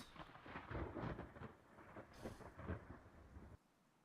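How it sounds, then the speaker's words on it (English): Hailstorm in the Roblox Twisted storm-chasing game, with thunderous rumbling and dense pelting of stones, loud and rolling in swells before cutting off abruptly near the end. "One-inch hail right here in Prior Lake."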